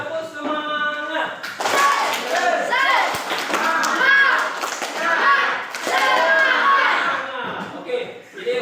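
Schoolchildren in an Indonesian class chant a rhythmic clapping cheer in unison, their loud, close voices mixed with patterned hand claps, following a short spoken cue from the teacher.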